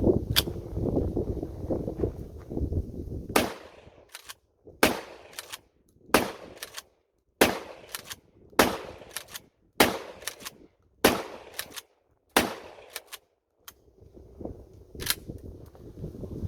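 Shotgun firing a string of eight sharp, loud single shots at a range, spaced about a second or so apart, each cracking report followed by a brief decay and near-silence.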